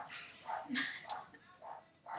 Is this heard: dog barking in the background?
yes